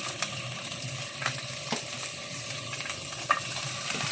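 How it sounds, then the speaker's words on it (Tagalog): Sliced onion frying in a pan for pork sinigang, an even close sizzle with a few light clicks of the utensil against the pan. "Lalagay ko na yung sibuyas."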